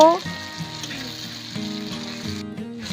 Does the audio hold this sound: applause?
no